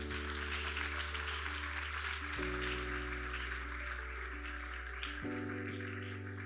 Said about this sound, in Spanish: Un aplauso más fuerte, ¿verdad?